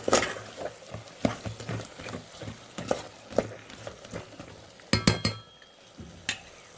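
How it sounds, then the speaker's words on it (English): A spoon stirs a prawn biryani mixture in a pot, giving repeated scraping clinks and knocks against the metal over a soft sizzle, close and moderately loud. "Give this a stir."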